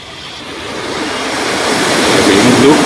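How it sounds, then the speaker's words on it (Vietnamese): Midday surf on the beach at Nha Trang, a steady loud wash of breaking waves that builds slightly over the few seconds, with wind rush and no voices. "buổi trưa trên bãi biển."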